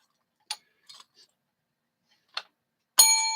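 A bell rings in a sharp, bright ding with a sustained ringing tone, preceded by a few short faint ticks and clicks in an otherwise quiet room.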